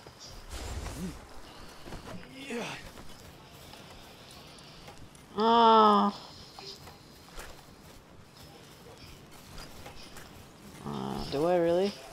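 Cow in the Palworld video game gives two loud, drawn-out moos with wavering pitch, one midway and one at the end, over low footstep and hoof-like shuffling and background speech.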